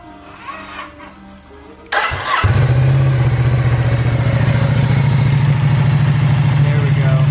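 A Ducati Diavel 1260 motorcycle, just back from an oil service, cranks and fires up after a few quiet seconds. It then settles into a loud, close, steady idle with an even throbbing rhythm.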